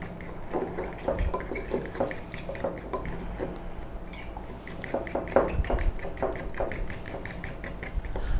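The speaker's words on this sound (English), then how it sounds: "So I've just beaten that till it's nice and smooth, as you can see. Really beautiful lemony mayo now" Lemon mayonnaise is beaten until smooth, a rapid rhythmic clatter of a utensil against a bowl in close, moderately loud bursts with a short pause midway.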